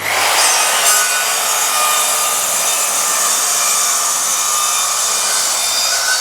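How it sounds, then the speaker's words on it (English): A plunge saw set to a shallow depth runs along a track through wood for upholstered channel-tufted bench seating, a loud, continuous high whine and rasp holding steady close by. "I've set the plunge saw to really shallow, as you can see."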